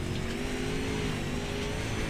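A modified race car engine roars steadily at Knoxville Raceway in the iRacing sim, a loud, continuous drone with a sustained pitch and no pauses or talk.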